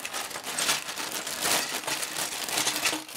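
A sealed plastic bag of used LEGO Technic parts is torn open, giving a close, steady crinkling and rustling of plastic for about three seconds, with no voices.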